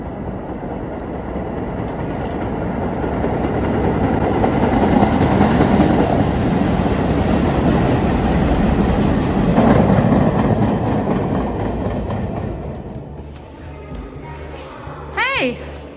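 An old antique New York City S subway train rolls on its rails, a loud continuous rumble with rattling wheels that fades toward the end, followed by a brief squeal, while people talk.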